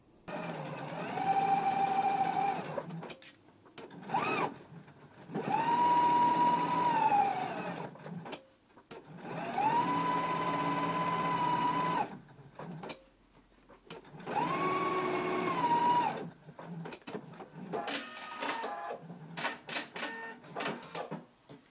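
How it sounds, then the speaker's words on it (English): A sewing machine stitches fabric flaps along the side and lower edges at a 3/8 inch seam, running in several steady bursts of whirring separated by short pauses. "Now we're going to go to the machine and stitch these along the side and the lower edges at a 3/8 of an inch seam allowance."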